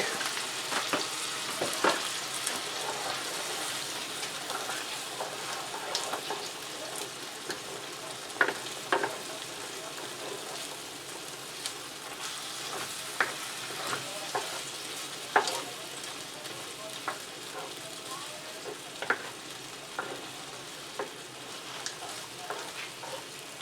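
Ground meat with sloppy joe seasoning mix sizzles quietly in a pan for a long stretch, with faint scattered stirring scrapes and taps. No one speaks.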